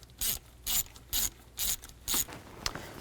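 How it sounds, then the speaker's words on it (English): Ratchet wrench loosening intake manifold bolts on a 2000-2006 Chevy Tahoe, heard as five quick bursts of clicking in a steady rhythm, close and clear, then a faint trailing click. "Take those bolts, loosen them up."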